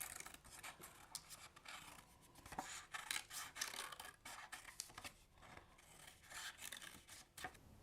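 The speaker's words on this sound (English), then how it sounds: "we'll start by cutting off the corners" Scissors snip and rustle through paper being cut into a pop-up spiral. Quiet, close, irregular cuts and paper scrapes repeat throughout, with no talk.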